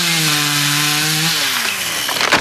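Electric chainsaw cutting wood, a loud steady motor whine holding pitch, then dropping and roughening as the blade bites in, close and alone without voices.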